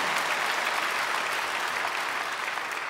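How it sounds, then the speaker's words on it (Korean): A church congregation claps steadily for the children gathered in the sanctuary and on the stage, producing an even, continuous wash of applause from start to finish without any clear voices. "박수하겠습니다."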